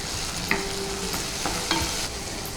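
Onion, garlic and tomato frying in a pan make a steady, close sizzle throughout, with a few soft scrapes and clinks of stirring on top and no talking.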